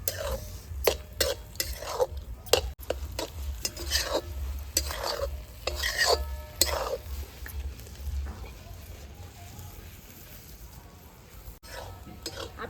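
Bottle gourd halwa cooks in a pan while a spoon stirs it, making soft scraping and clinking strokes in an irregular rhythm over a low background hum. The sound is close and moderate, with no talking.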